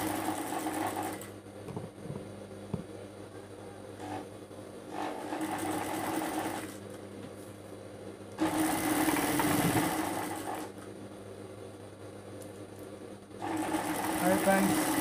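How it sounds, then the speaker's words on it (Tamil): Sewing machine stitching around a shirt pocket, running in long steady bursts with short pauses between them, loud and close, with a mechanical whir and a low background hum. "தையல் போட்டுக்குங்க சுற்றி வர."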